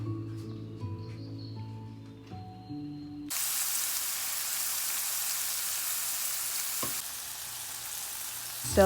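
Already-cooked fettuccine noodles are stirred in a pan, a quiet clink and shuffle giving way abruptly to a loud, steady sizzle that fills the rest of the clip with a few small scrapes.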